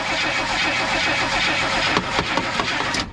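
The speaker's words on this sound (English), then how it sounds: "first start since we've owned it. First start in we don't know how long." A 1970 Chevrolet Nova V8 cranks for its first start in years: a loud, steady chugging starter rhythm with engine churn, then sharper sputtering bursts near the end as it tries to catch.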